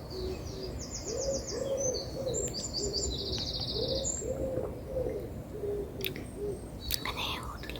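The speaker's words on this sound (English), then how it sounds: "I hear all the lovely birds." Birds sing outdoors in the morning, a repeated cooing hoot sitting low under bursts of high chirping song, with soft close whispery sounds and a few sharp clicks nearby.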